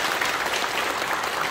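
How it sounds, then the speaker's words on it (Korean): Congregation at a Presbyterian elder and deacon ordination service in a Seoul church applauds together, a moderate, even roar of many clapping hands with no break. "박수로"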